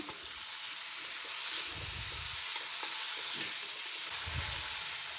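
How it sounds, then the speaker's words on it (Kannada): Tomatoes frying with onions in a pan: a steady, close hiss of sizzling oil runs throughout, with two brief low scraping stirs partway through and no talking. "ನೋಡಿ ಟೊಮೆಟೊ ಕೂಡ ಚೆನ್ನಾಗಿ ಫ್ರೈ ಆಗ್ತಾ ಇದೆ"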